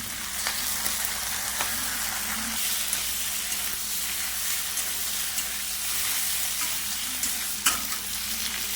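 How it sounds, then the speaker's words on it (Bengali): Ground spice paste fries with a katla fish head in a hot pan, a loud, dense, close sizzle that runs without a break, with light scraping stirs and a couple of sharp ticks, and nobody speaks. "মশলাটা দিয়ে কষিয়ে নিয়েছি"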